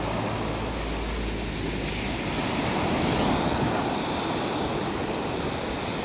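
Sea waves roll and break steadily on the shore, a continuous loud surf wash with some wind noise across the microphone, and no voices heard.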